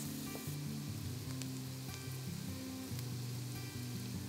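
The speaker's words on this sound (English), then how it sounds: "saute together the shallots and garlic until fragrant" Shallots and garlic sizzle in butter in a large pot over medium-high heat, giving a steady, soft frying hiss throughout, heard under a constant low background tone without talk.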